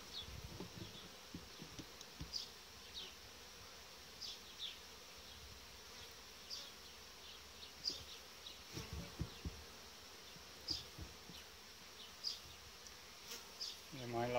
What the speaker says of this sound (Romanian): am pus proteina aici pe perete și albina o devorează cu toată plăcerea